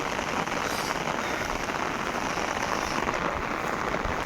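Heavy rain pours steadily in foggy countryside, a dense, even hiss of drops with no pauses and no voices.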